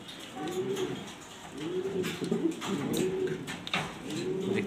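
Black Danish pigeons give repeated low cooing calls in a steady rhythm, three or four rounded phrases close by, with soft clicks and rustles in the pen behind them.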